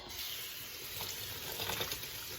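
Food, soft roasted tortellini, rinsed under a running tap in a sink, giving a steady, faint rush of water with a light spatter, close by and without talk.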